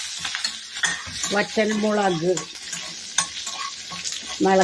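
Curry leaves and dried red chillies fry in a mustard-seed tempering for a dal curry, giving a close, steady sizzle with a stirring spoon scraping the pan and a few sharp crackles.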